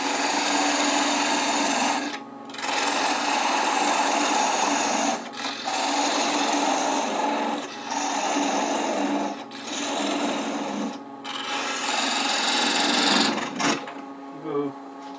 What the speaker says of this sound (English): I can go ahead and part that off. And I'm going to do that with a thin parting tool